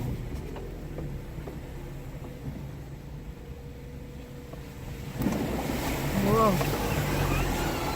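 A boat churns through marshy water, with wind rumbling on the microphone and a louder surge of waves washing in after a few seconds; a few voices chatter faintly.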